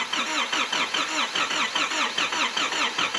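A rebuilt motor, with fresh radiator and unprimed fuel injectors, being cranked on the starter: a loud, rhythmic churning pulse repeating steadily at close range, with no talk over it.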